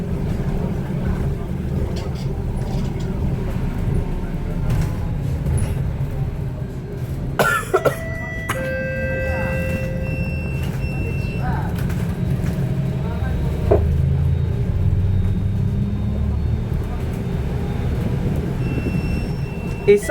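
A retrofitted electric bus during a ride gives a steady low hum and purr, with clacks and knocks from the cabin and a brief higher tonal whine partway through, heard from inside.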